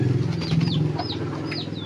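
Chickens feeding on an ant nest give a few short, high clucking calls over a steady low rumble, fairly close and moderately loud.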